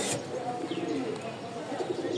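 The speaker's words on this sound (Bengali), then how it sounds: "দেখতে পাচ্ছেন এক জোড়া আবলোক কবুতর" A pair of Aablok pigeons, offered as a racing pair, coo softly at close range, with low repeated throaty calls over a faint background hum.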